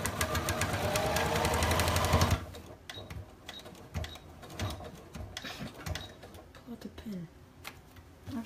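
A sewing machine stitches a fabric reading pillow, running fast and loud for the first two seconds, then stopping, followed by quieter clicks, fabric handling and scattered small noises.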